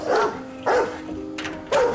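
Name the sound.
dog barking in TV show The Leftovers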